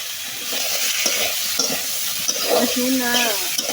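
Potatoes and tomatoes fry in a pan with a steady, close sizzle, while a utensil stirs and scrapes against the metal.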